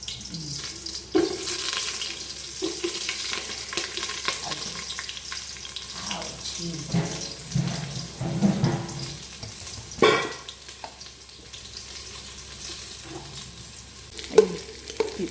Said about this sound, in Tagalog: Dahil mainit na yung kaldero at yung mantika, lalagay natin yung bawang